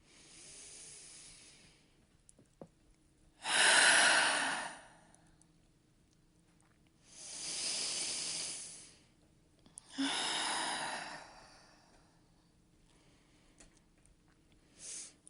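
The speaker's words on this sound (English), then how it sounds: "start with a couple extra deep breaths" Three slow, deep breaths in a quiet room, each a soft breathy rush lasting over a second with long silent gaps between, close and gentle, no talk.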